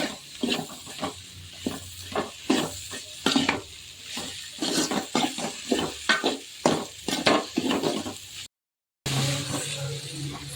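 Ridge gourd poriyal fries in a pan while being stirred without pause, producing repeated spatula scrapes over a soft sizzle, close up, with a brief dropout near the end.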